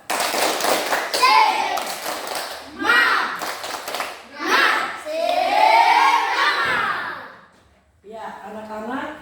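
A class of young children at an Indonesian primary school does a rhythmic spirit clap, bursts of patterned hand claps mixed with loud chanting voices and shouts, then a short pause before more voices.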